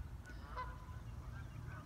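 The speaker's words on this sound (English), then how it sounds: "You may be able to hear the geese in the background coming out to find whatever it is they find in their daily activities." Geese honking faintly in the distance, a few scattered calls rising over a low steady outdoor rumble, with no voices present.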